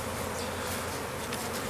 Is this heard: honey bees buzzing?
yes